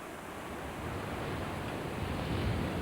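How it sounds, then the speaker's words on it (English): Wind gusts across a seaside pier with sea waves below, forming a steady, broad roar that swells slightly louder toward the end, with no voices. "this wind's still the same"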